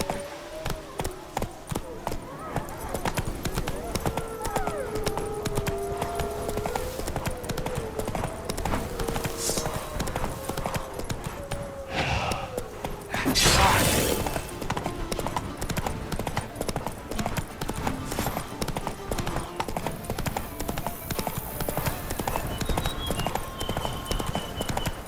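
The horse Roach from The Witcher 3 gallops along in steady, fast clip-clop hoofbeats, loud and close throughout, with a short whoosh midway and a faint voice briefly audible.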